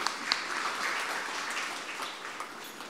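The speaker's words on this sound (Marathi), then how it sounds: "त्याबद्दल त्यांना आपण टाळ्या वाजवून त्यांना धन्यवाद देऊया." A church congregation at a Marathi novena claps for a visiting choir, a dense, steady patter of many hands filling the room for a few seconds before fading.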